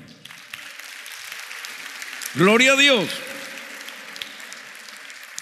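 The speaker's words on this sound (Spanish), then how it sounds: "Un aplauso al Señor" Churchgoers at a worship service applaud softly in the background while a voice rings out loudly in a sung exclamation over the clapping.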